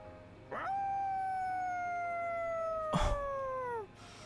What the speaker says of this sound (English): Koromaru's howl resounds throughout the quiet shrine.